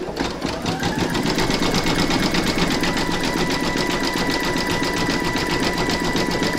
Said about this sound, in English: We're now going to stitch round number eight, and that's going to zigzag the raw edges.